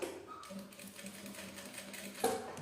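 A sewing machine fitted with a presser foot stitches a large tote bag in a steady, quiet mechanical whir, with a sharper clack near the end and no talk.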